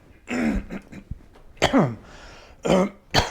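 A few throaty coughs and throat-clearing bursts, close and fairly loud, spaced out with short quiet gaps between them.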